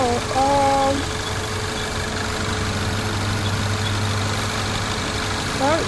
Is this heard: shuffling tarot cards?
no